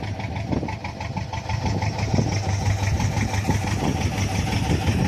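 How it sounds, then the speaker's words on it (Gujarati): A large boat's engine running out at sea gives a steady, throbbing mid-pitched rumble with a slight knocking pulse, close and continuous for a few seconds, with no voices. "ખતરનાક વાળી શીપ છે કંઈક અવડી મોટી બોટ છે"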